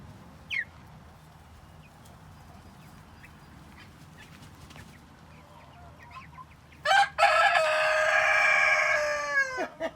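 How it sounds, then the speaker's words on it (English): Birds chirp faintly for several seconds, then American Bresse chickens burst into loud, harsh squawking close by, carrying on raucously to the end. "They're just squawking."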